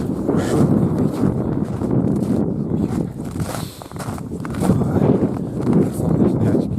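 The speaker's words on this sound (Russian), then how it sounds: "Вообще беда, ветер такой. Вообще жуткий ветер." Strong, gusty wind buffets the microphone outdoors during a fishing trip, a loud continuous low roar that surges and dips with the gusts, with no clear speech.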